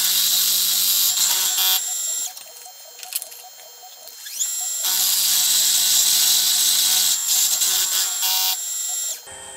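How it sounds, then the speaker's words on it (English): A milling machine cuts a quarter-inch slot through the center of an engine connecting rod eye for a Stuart Turner No. 8 mill engine, giving a loud, steady high-pitched whine that drops off briefly mid-cut before resuming. "I cut the quarter inch slot through the center of that"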